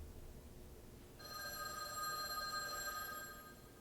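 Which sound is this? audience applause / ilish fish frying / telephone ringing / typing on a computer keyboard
telephone ringing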